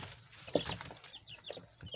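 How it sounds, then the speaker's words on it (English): Easter Egger chickens clucking softly at close range, a few short scattered clucks and chirps over a quiet background. "they are Easter egg chickens"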